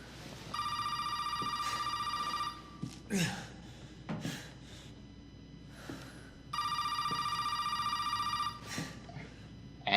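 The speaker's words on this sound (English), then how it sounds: "Answer the phone." A telephone rings in bursts of electronic trills during a video game trailer, two long ringing stretches separated by gasps, breaths and brief vocal sounds.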